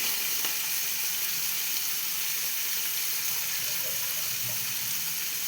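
Prawns sizzle softly in a hot pan, a steady, even hiss with faint crackle that keeps up throughout, quiet and close with no talking.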